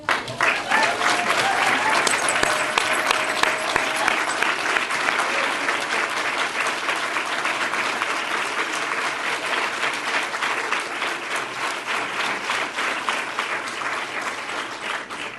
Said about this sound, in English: please stand up so we can applaud you.